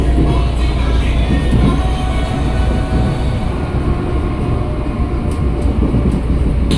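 A Tokyo Metro 6020 KRL commuter train runs fast on the Cikarang line, a steady loud rumble and roar of wheels and motors heard from inside, continuous without pause.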